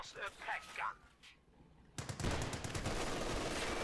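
A tank's coaxial machine gun fires in a Company of Heroes 2 battle. After a quieter stretch with some distant noise, a dense, sustained rattle of automatic fire starts abruptly and continues loud to the end.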